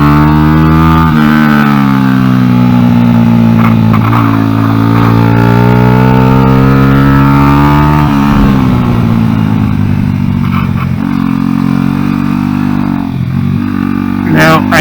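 Honda NSF100 motorcycle fitted with a salvaged XR100 engine lugging along at low revs without a downshift, loud and close throughout, the drone sagging and climbing with throttle while a rider talks over it.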